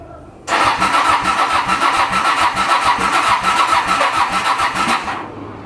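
A Honda VT700 motorcycle engine, choke on, rumbles and sputters with rapid uneven pulses, loud and close, straining as if trying to catch, then fading toward the end.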